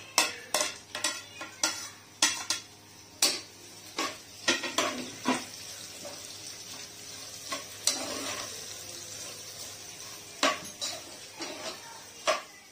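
Onion and ginger garlic paste sauté in a pan for Kerala beef roast, a quiet, constant sizzle broken by sharp, repeated scrapes and clinks of a spoon against the pan.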